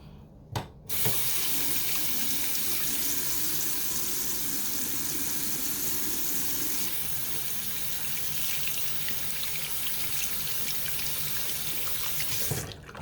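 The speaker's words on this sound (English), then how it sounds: "wash it out in the sink." Tap water runs steadily into a bathroom sink while a rechargeable pore vacuum blackhead remover is rinsed out, a continuous close hiss of flowing water starting after a brief pause and lasting to the end.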